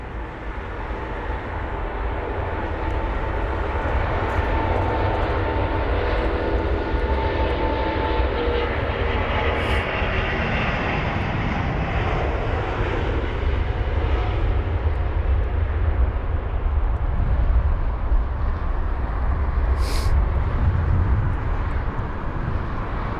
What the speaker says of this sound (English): you got the Qatar 350-900 departing now